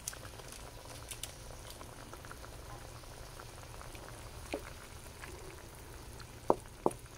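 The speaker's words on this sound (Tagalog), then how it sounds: "Hayaan na muna natin kumulo yan guys." Squid adobo simmers in a pot with a steady low bubbling and soft patter, quiet and close, with a couple of sharp clinks near the end.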